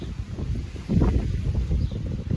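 Low, gusty wind buffets the microphone, a rough blustery rumble that swells partway through.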